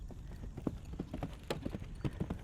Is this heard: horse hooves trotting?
yes